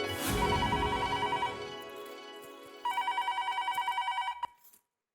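Telephone ringing in a TV sitcom home scene, two bursts of a bright electronic ring, the second a rapid pulsing trill, fairly quiet and alone without talk.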